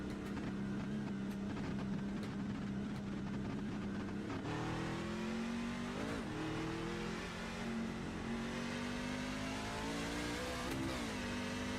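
Engines drone and rev continuously, pitch rising and shifting as vehicles accelerate, fairly loud with no speech over it.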